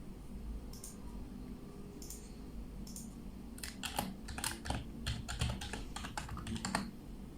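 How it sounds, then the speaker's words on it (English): Typing on a computer keyboard to enter a web address, a few separate keystrokes at first, then a quicker run of clicking taps, close and fairly quiet over a low hum. "all what you need is to type shodan.io"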